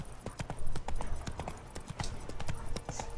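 Roach the horse trots in The Witcher 3, hooves clip-clopping in a steady, fairly quick rhythm at close range throughout.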